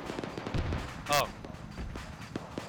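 A single rifle shot fired as a dead check in a military video game cracks sharply about a second in, set against faint background battle noise and a few quiet clicks.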